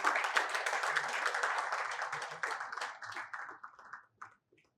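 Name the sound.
audience applause for a lecture speaker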